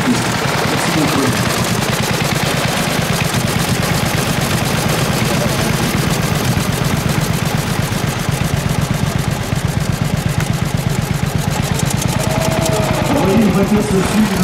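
A 1905 veteran car with a big engine runs steadily at a vintage car rally, giving a rapid, unbroken chugging pulse that stays loud and close for the whole stretch.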